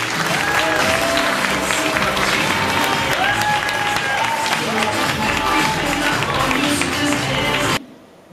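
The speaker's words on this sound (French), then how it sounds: "je vais vous demander, s'il vous plaît, de m'aider à faire un tonnerre d'applaudissements pour Tendresse Buenissa." A roaring ovation from a large audience for a founder, with dense clapping, cheering and whistles, loud and continuous for about eight seconds before cutting off.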